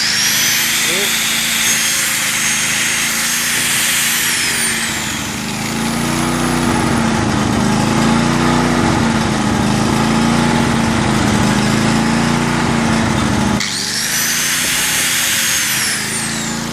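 A generator engine runs steadily on a propane bottle, a loud, close, even drone with a whining high tone that rises and falls at the start and end, with no break in the running.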